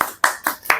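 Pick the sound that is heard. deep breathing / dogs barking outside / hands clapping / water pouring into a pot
hands clapping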